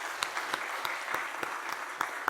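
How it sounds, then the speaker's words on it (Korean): A church congregation claps together in celebration, a sustained, even patter of many hands at moderate distance, with a few sharper claps standing out and no talking. "다시 한번 우리 박수로 축하하십시다."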